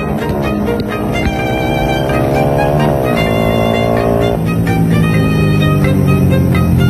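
A tuned Smash motorcycle engine revs on a test run, loud and close, its pitch climbing and dropping through several sustained pulls with no pause in the roar.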